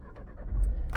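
Nissan X-Trail 1.6 dCi diesel engine starting with a brief crank and then catching into a low rumble, quiet and close, about one second long.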